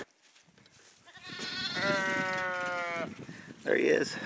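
A sheep on a farm gives one long, clear, wavering bleat at close range, followed by a shorter cry; faint voices and background noise surround it.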